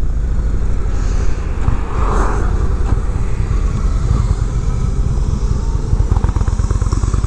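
A 2019 Indian Chief Dark Horse cruiser with a 111 cubic inch engine rumbles steadily and loudly while being ridden up a small hill, with constant low engine throb and wind noise throughout.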